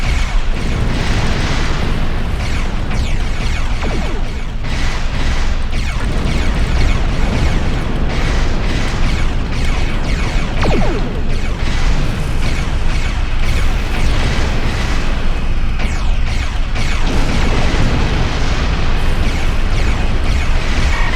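Starship disruptor cannons firing in Star Trek Online, a dense, loud and continuous roar of blasts and explosions with no clear gaps and no talk.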